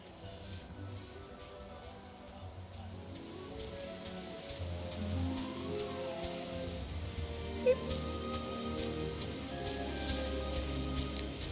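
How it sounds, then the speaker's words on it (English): Steady downpour from Final Fantasy XIV pattering evenly across the full length, a continuous hiss of rain with low game ambience and music tones beneath and no talk. "it is raining cats and dogs"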